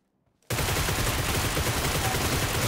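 Gunfire erupts in PUBG Mobile after near silence, a sudden dense, sustained volley of shots that stays loud and unbroken for a couple of seconds, with no voices over it.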